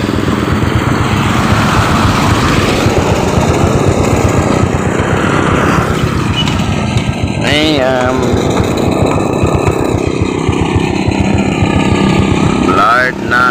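Motorcycles speed hard along a road, their loud, continuous engine roar filling the whole stretch, with rising revs near the end and people talking over the noise.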